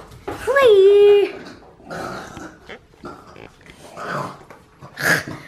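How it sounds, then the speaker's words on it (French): Dog growling and whining while playing with a new toy, a strained pitched growl up front followed by softer grumbles, with someone talking over and between the sounds. "Regardez le bruit qu'il fait, ce chien."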